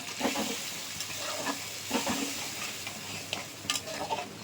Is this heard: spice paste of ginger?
yes